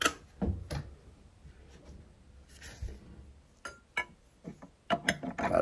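Basin tap fittings are tightened with a Tapex kit tool. Close, irregular clicks, scrapes and metallic taps come in scattered bursts, busier toward the end.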